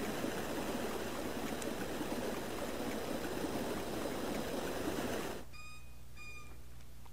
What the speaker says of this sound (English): Now I guess where all the water comes from.